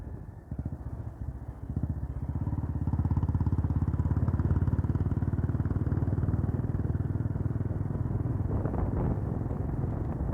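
A close, steady motorcycle engine hums along a winding mountain road near Munnar, building in loudness after a quieter start, with faint rattling over the ride.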